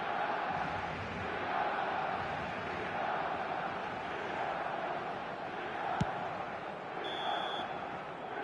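Crowd applause at a football match between Milan and opponents as play ends, a broad steady wash of clapping and crowd noise at moderate level, with one sharp click near the middle.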